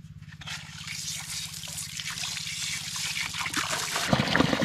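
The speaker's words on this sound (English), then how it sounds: "Let's go set up that pump and get the siphon going." Water trickling and dribbling steadily through a siphon hose draining a flooded yard, a continuous close wash of flow with a low pump-like hum beneath it.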